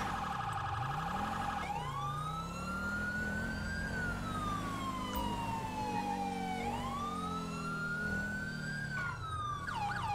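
An emergency vehicle siren wails in the game GTA 5, a loud, continuous rising and falling tone that sweeps through several long cycles with a constant engine hum beneath it.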